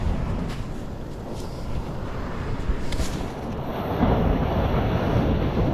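Ocean waves washing onto a beach, a continuous low rumbling surge with some wind buffeting on the microphone, swelling louder near the end, no voices.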